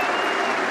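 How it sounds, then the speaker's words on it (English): A Test match cricket crowd, England v West Indies in 2017, gives a standing ovation for Joe Root's fifty: a brief, dense, steady wash of applause from many hands, heard alone. "But he's getting a standing ovation now because that's his 12th"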